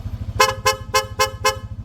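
A Hella Chrome Twin horn fitted to a Yamaha NMAX V1 scooter blasts five quick, evenly spaced honks in rapid mode, loud and close over a low idling hum.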